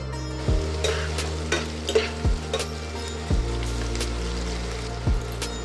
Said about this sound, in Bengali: এই বাটির পেঁয়াজটা তেলে দিয়ে ভেজে নেব